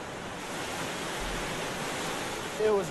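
Dense, steady rushing water fills the clip, a broad churning roar with no pauses, and a brief louder burst near the end.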